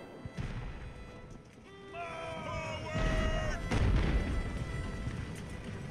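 Musket and cannon fire from a land battle with skirmishers in the naval strategy game Ultimate Admiral: Age of Sail, heard as booming bursts and sharp cracks over a sustained musical tone, with a voice in places.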